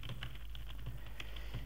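Fingers type on a computer keyboard in a quiet room, a faint, steady patter of separate key clicks at an even pace with no voices.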